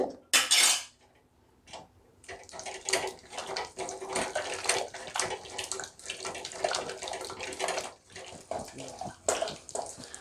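Cooked vegetables for sambar are mashed in a metal pot, giving a busy run of scraping, clanking and wet squelching up close, with a sharp clatter near the start and brief gaps between bursts.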